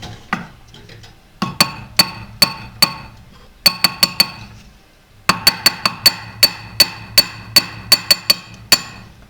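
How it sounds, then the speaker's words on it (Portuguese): A chasing hammer taps a ring on a round ring mandrel in quick metallic clinks, arriving in irregular clusters of two to five sharp strikes with short pauses between them, close and bright. "Aí com o meu martelo pena"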